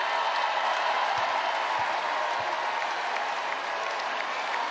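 A basketball crowd rises to its feet applauding the seniors, a dense, steady wall of clapping and cheering that holds at full strength throughout without pause.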